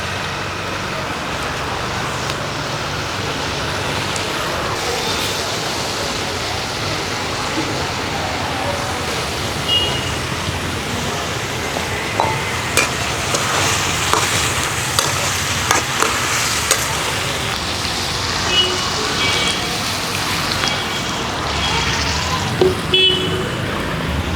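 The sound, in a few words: potatoes added to a pan, frying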